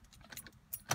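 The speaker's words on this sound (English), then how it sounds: "first we have to put the car in ignition" Keys jangle close by as they are turned in the ignition of a BMW E39, a quick metallic rattle in short bursts ending in a brighter clink.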